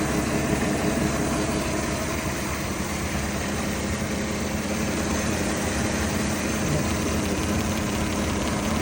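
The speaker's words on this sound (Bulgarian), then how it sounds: "Чувате как работи мотора, няма никъде течна масло." A used car's engine runs steadily at idle, a constant close rumble with a light mechanical ticking throughout, loud and unbroken with no talk.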